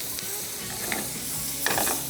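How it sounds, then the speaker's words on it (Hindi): Sliced garlic fries in butter and extra virgin olive oil for a dal tadka, giving a steady close sizzle with a few scraping stirs and no talking. "हमने सिर्फ लहसुन को थोड़ा सा फ्राई करना है"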